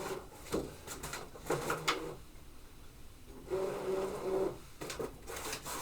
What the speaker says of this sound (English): I'm going to hit the mat loading button, which is going to load my mat.